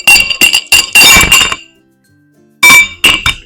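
Homemade orange hard candies clinking together in quick clusters of sharp glassy clicks, close and loud, with a short silent pause before a few more clinks.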